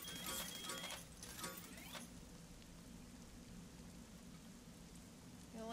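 Steady, dense rain hisses and patters throughout in the video game Little Inferno, with a few brighter chimes and tones at the start and end.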